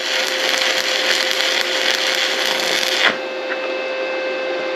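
Stick welding with a Sefaspe ARC 200 PRO arc welder gives a loud, steady crackling hiss with sharp pops, running hot and fast, then cutting out partway through and leaving a quieter background hum.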